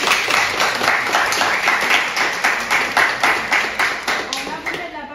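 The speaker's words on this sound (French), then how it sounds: "vous pouvez l'applaudir" An audience applauds a defense lawyer at a courtroom-style oratory contest, loud, dense clapping with an uneven rhythm that fades slightly toward the end, heard close with some voices mixed in.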